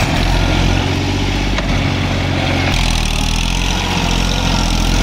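Massey Ferguson 5245 46 HP tractor pulling a deluxe rotary tiller through a dry, dusty field in third low gear; a loud, steady diesel drone with constant engine rumble runs throughout without pause.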